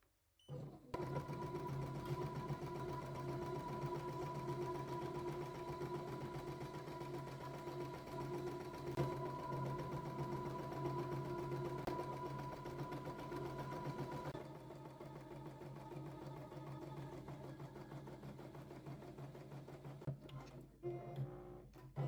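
A home embroidery machine stitching a design onto stained fabric without stabilizer, a steady rapid mechanical whir and tapping that runs continuously and close, shifting to a lighter rhythm near the end before stopping.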